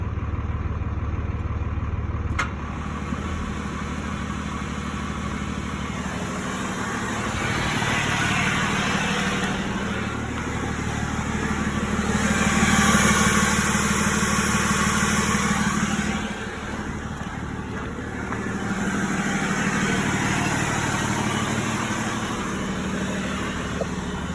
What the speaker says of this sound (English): sitting here idling, I'm actually even with the exhaust brake on, I'm building back pressure there